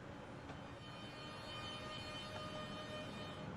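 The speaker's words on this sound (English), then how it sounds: "I'm going to just pop the train into reverse now." A London Overground electric train in Train Sim World 2 backing up in reverse, a faint steady rumble and hiss of traction motors and rolling stock with a thin whine, low and continuous.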